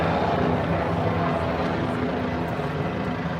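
A helicopter roars close overhead during a protest in Los Angeles, a steady, loud, rumbling drone that fills the whole stretch without letup.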